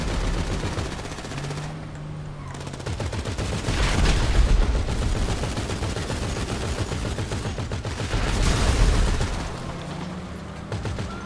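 Gunfire roars in GTA 5 Online as rapid automatic shooting rattles on and on, loud and close, swelling in two heavier bursts, with no voices over it.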